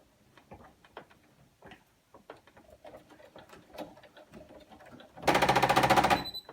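A sewing machine stitches through thick denim binding, first as scattered ticks and clunks, then in a loud, fast, steady burst of needle strokes near the end.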